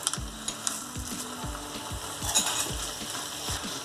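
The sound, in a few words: popped chickpeas frying in the curry pan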